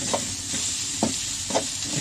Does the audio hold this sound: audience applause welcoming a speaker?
no